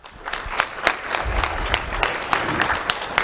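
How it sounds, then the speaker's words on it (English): Short burst of audience clapping at a youth awards ceremony, moderately loud and close, with individual claps standing out in an uneven rhythm. "Round of applause for Liz."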